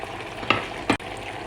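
Peppers and vegetables tipped into a pan of cooking Jamaican chicken curry, giving a steady soft sizzle broken by two short clattering drops as pieces land in the pot.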